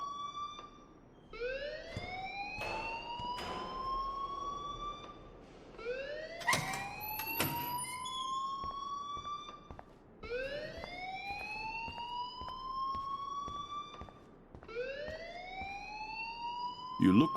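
A fire alarm wails in the Life is Strange game, sounding as repeated rising siren sweeps roughly every four seconds over quiet background sound.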